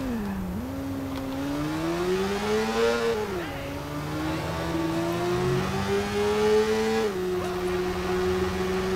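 A motorcycle engine revs in the video game Watch Dogs, its steady pitch rising and falling as the throttle opens and eases, loud and close, running without a break and with no talk over it.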